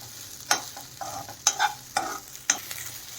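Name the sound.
soaked sago sautéed in ghee on low heat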